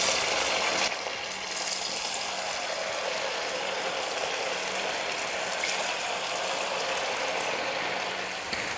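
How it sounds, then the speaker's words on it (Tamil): Cauliflower pieces fry in hot oil on a high flame for gobi manchurian, giving a continuous, even bubbling sizzle, close and steady, with no one speaking. "காலிஃப்ளவர் எடுத்து எண்ணெயில் போட்டுக்கலாம்"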